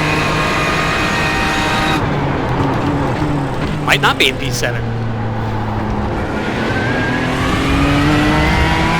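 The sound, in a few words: race car engine in iRacing video game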